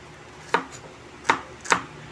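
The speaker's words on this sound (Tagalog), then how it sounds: "Patahaba lang yung kanyang slice ng ating onion or sibuyas guys." A knife slices an onion lengthwise on a board, three sharp separate knocks spaced unevenly over a couple of seconds, close and clean against a quiet background.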